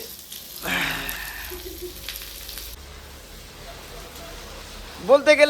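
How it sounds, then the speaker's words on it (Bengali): Onions frying in hot oil while cooking meat for a night feast, giving a steady, soft sizzle under continuous nearby talk that rises louder toward the end. "তো তেল ফেলে দিয়েছে, তারপরে পেঁয়াজ ফেলছে"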